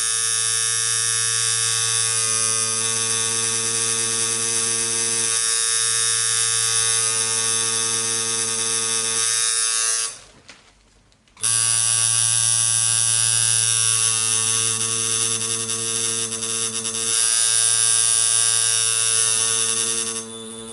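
A tattoo machine buzzes steadily and loudly during needle-size practice on a practice stretch, with a steady tonal hum that cuts out briefly for about a second before resuming unchanged.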